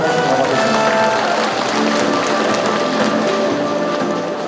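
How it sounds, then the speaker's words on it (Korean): Applause at a founding general meeting, welcoming the county governor as a guest: a dense, steady wash of clapping from a crowd that holds at an even loudness and eases slightly toward the end. "박수로 환영해 주시기 바랍니다"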